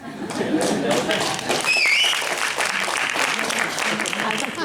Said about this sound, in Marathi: शिट्टी आली म्हणजे प्रेक्षक वर्ग एकदम जिवंत आहे